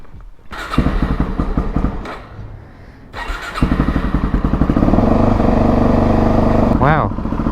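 A motorcycle engine, long left with a dead battery, cranks and catches, then idles unevenly and warms up with a steady low rumble, loud and close, while a person talks over it.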